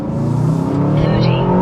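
An Aston Martin DBX707 SUV accelerating hard in Sport Plus mode, its engine rising in a loud, steady roar from inside the cabin for about two seconds.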